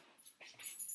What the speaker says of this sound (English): That's my dog crying.